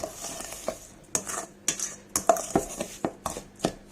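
Scraping, clinking stirs of a homemade dishwasher tablet paste against a container with a faint fizzing reaction underneath, in irregular strokes close by.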